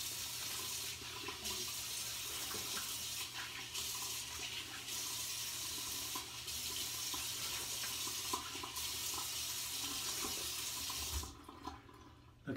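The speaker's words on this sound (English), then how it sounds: "Let's rinse off." Water runs steadily from a bathroom tap into a sink for several seconds, close and continuous while a face is rinsed after shaving, then cuts off near the end.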